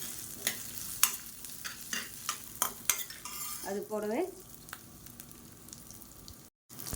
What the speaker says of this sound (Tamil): இப்போ எல்லாத்தையுமே நல்லா வறுத்துக்கலாம்.